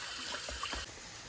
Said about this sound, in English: I put it in a strainer and I put some water on it. Wash it off